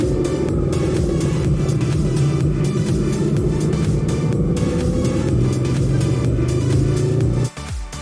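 Motorbike cruising a New Zealand mountain road, a loud, steady engine rumble with wind buffeting, holding a constant throttle before a brief dip near the end, no talk.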